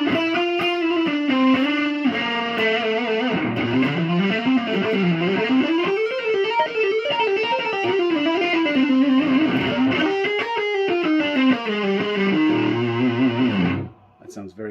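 Electric guitar with a Lundgren Black Heaven pickup set in the middle position, played through heavy distortion: a sustained, saturated lead riff with bends and flowing note runs, loud and close, cutting off abruptly near the end.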